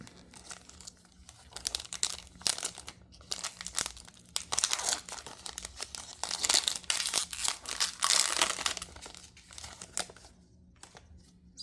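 Cardboard and plastic wrap crinkle and tear as a Magic: The Gathering Teenage Mutant Ninja Turtles prerelease box is opened, close-up and fairly quiet, with irregular bursts of crumpling and ripping.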